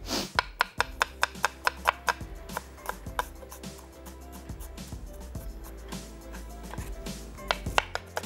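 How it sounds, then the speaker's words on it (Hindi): A knife slices a medium onion thinly on a cutting board, a quick, even series of sharp, close taps that slow slightly midway, with no talking. "एक अदद दरमियानी प्याज, इसको स्लाइस कर लेंगे और कोशिश करेंगे कि बारीक प्याज कटे"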